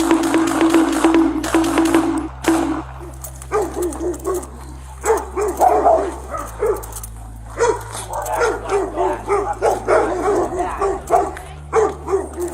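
A dog barks repeatedly and excitedly, mixed with yips and whimpers, while people shout over it and a low engine hum runs underneath.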